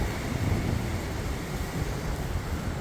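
Storm Éowyn's wind roars outdoors as a dense, unbroken rumble with surging gusts, loud and close with buffeting against the microphone.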